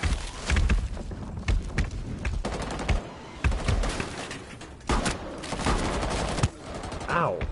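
Gunfire in Rainbow Six Siege during an Outbreak mode match, repeated loud bursts of rapid automatic shots with heavy thumps, coming in clusters with short gaps, under a player's talk.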